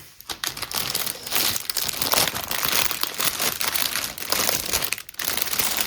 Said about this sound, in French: pardon pour les bruits de plastique, ça fait partie de l'unboxing